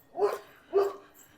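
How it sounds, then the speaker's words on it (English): A dog barks twice from behind a fence along a neighbourhood street in Albert Park, Regina, two moderately close, evenly spaced woofs with a quiet gap between. "I think this dog's barked at me before when I walked along this fence."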